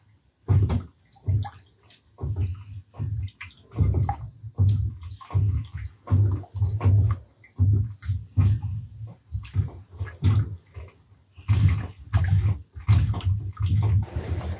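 Paint being stirred to blend separated oil back into it, a steady run of wet, rhythmic scraping and sloshing strokes close up, with no voices.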